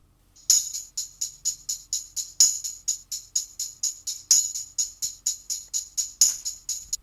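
Tambourine recorded without compression, struck in a steady repeating rhythm of bright jingle hits, with some beats noticeably louder than others; no voices.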